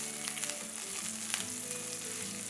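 Crushed garlic cloves, slit green chillies and curry leaves sauté in hot oil for a rasam, giving a steady close sizzle with a few soft spatters and some tonal hum underneath, no voices.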